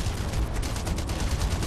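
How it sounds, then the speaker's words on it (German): Grenade launcher fire in the Terminator video game on Xbox 360, heard as a dense, loud burst of explosive booms that runs through the whole short moment without any talk. "den holze ich jetzt mit einem Granatwerfer kaputt"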